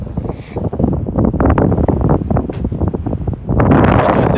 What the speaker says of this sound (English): Just like this wind that is blowing.